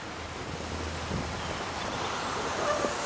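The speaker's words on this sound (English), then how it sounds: "this wind is giving me a challenge here" Wind gusts roar steadily across a microphone outdoors during cooking, a constant broadband rush with no talking.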